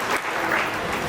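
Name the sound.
applause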